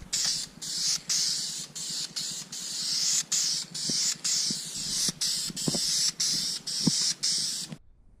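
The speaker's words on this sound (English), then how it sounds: "So we're going to spray it on and we'll see what it looks like" Repeated bursts of aerosol spray paint applying a base coat on a Jeep 4.0, hissing loudly in short pulses with brief gaps between them, close by and steady throughout.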